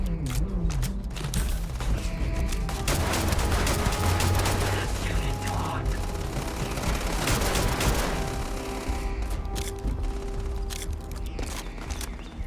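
Rapid bursts of gunfire ring out in the space game Starfield, dense overlapping shots and mechanical clatter over a heavy low rumble throughout.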